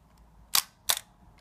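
Zenit-19 Soviet SLR film camera shutter fired at a 1/2 second setting: two sharp mechanical clacks about a third of a second apart, the opening and closing of the shutter, close and clear against near silence.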